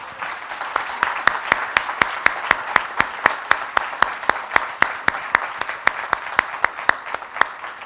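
An audience at a conference closing ceremony applauds Bob, a loud, continuous crowd clapping with crisp, regular sharp claps standing out near the microphone, sustained for the whole stretch.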